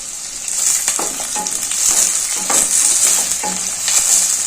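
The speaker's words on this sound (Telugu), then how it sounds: "కొద్దిగా వేగిన తర్వాత ఉల్లిపాయలు వేసుకోవాలి." Sliced onions and curry leaves fry in hot oil in a pan for a potato kurma, making a loud, continuous sizzle broken by scraping stirring strokes.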